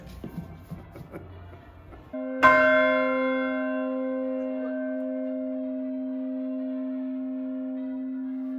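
A church bell at St Fin Barre's Cathedral is struck after some faint knocking, ringing out loud and close with a bright strike and a long, steady hum that rings on without fading much.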